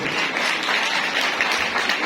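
Applause from a women's day gathering at a parish, thanking the guests: steady, dense clapping from a crowd filling the whole stretch at an even level.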